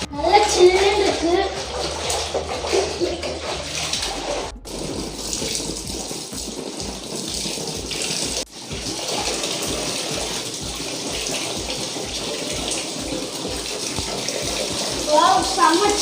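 Water pours and splashes steadily into a homemade backyard swimming pool, like a small waterfall, with people talking over the continuous gush.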